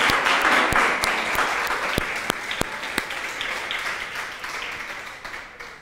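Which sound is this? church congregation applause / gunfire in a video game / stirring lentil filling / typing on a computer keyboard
church congregation applause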